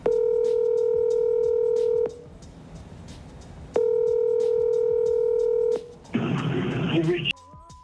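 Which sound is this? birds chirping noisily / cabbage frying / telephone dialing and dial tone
telephone dialing and dial tone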